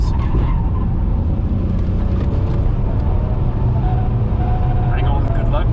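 BMW 330ci Clubsport racing on a track, with a steady loud engine drone and tyre noise throughout, some squeal, under continuous commentary from people inside the car.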